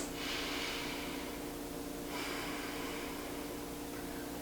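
Steady breathing of someone holding a supported yoga pose such as fish or corpse pose, two slow airy breaths drawn close to the microphone with a soft hiss, no talking.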